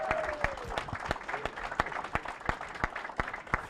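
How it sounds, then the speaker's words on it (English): Hands clap in a steady, evenly spaced rhythm of about a dozen sharp claps at a raffle prize ceremony, over a low murmur of room noise with a brief voice-like tone early on. "Clap. Clap."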